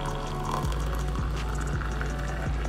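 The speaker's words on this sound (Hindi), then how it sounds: "इसमें डाल दिया मैंने आधा कप गरम पानी" Half a cup of hot water poured for cumin tea, a steady close liquid stream with a few bubbling glugs, alone with no talk.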